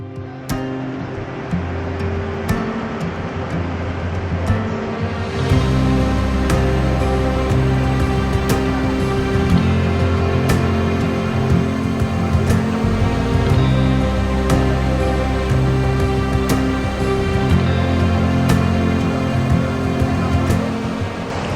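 The steady, powerful roar of rushing waterfall water in upstate New York continues without a break, loud and close, with a low droning hum running beneath it.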